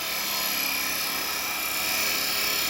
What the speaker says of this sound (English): if I want to push cut, just raise my handle up roll the chisel over, bevel's in contact, and I'm pushing round